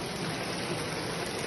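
Floodwater rushing through the streets of Lahat town like a river, a steady broad roar with no breaks, close and continuous.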